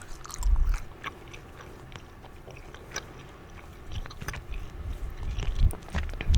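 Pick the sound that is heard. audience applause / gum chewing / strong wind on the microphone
gum chewing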